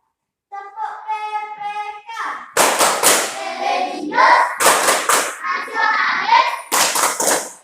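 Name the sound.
schoolchildren doing the PPK clapping chant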